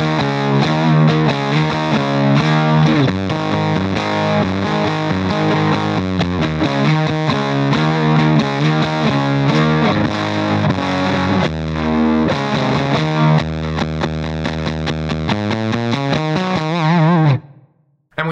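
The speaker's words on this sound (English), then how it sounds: "and then you just have this disgusting, gooey, melted guitar tone" Electric guitar through a cranked Tweed Deluxe amp model with the bright drive turned up, producing a thick, gooey, melted distortion as loud chords and riffs ring continuously for about seventeen seconds before cutting off abruptly.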